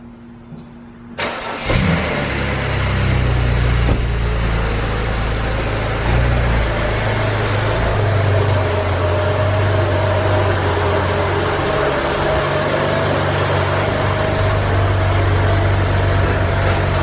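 A BMW E90 engine cranks briefly and catches, then settles into a steady, loud idle that runs on without a break.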